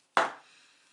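A single sharp crack as a homemade bath bomb mold is split open, a close, loud snap that decays quickly into a faint crumbling hiss.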